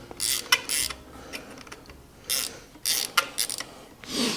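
Dirt bike wheel spokes being tightened with a spoke wrench, giving scattered metallic ratcheting clicks and scraping bursts, some longer, with no speech.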